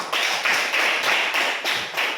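A classroom group claps in short, evenly spaced bursts during a math lesson, roughly seven or eight rhythmic unison claps, close and fairly loud, with no talking.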